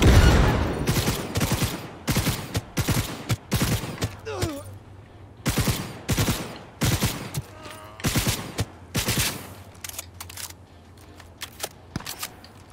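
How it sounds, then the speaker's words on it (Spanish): Rapid bursts of gunfire fired at the player in the Cyberpunk 2077 video game, loud, close volleys of shots in clusters, with short gaps and a low rumble underneath. "¿Qué me dispara?"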